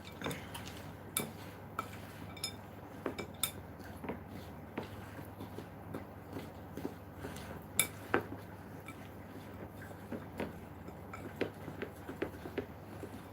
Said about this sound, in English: I'm just going to stir that up real good